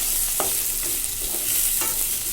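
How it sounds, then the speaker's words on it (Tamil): Tomatoes and curry leaves fry in a pan for a village-style chicken curry. The sizzle is steady, broken by a few spatula scrapes as they are stirred. "இது கூடவே கொஞ்சமாக கருவேப்பிலை ஆட் பண்ணி நல்லா ஃப்ரை பண்ணுங்கள்."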